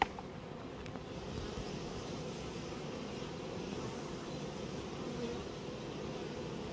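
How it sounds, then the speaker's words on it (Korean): Honeybees flying in and out of a hive entrance, some carrying pollen, make a steady low droning buzz that stays even and continuous throughout, with no voices. "바로 여기 벌통 입구에 드나드는 얘네들을 지켜야 돼요"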